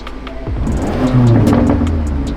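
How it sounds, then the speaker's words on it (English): Factory 2025 Range Rover Sport SV exhaust revving close by in a short burst, a deep rumbling rise and fall with a throaty low growl. "Listen to this exhaust."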